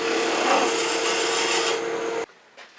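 Wide beading and parting tool cutting a tenon into cherry wood on a lathe, giving a steady broadband rasping scrape close up that runs for about two seconds and then stops abruptly, leaving a faint quiet tail.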